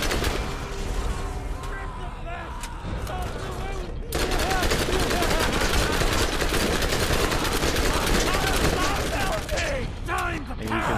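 Submachine gun fire in the video game Borderlands: The Secret Armory of General Knoxx, a dense, sustained rattle of rapid shots that runs loud and continuous for most of the stretch, with a voice talking throughout.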